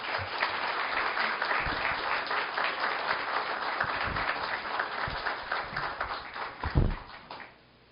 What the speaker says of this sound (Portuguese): E eu peço a todos uma salva de palmas para Wander da Conceição.